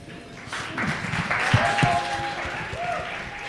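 An audience applauds the two candidates at a student union election debate, a steady burst of indoor clapping filling the room with some voices mixed in.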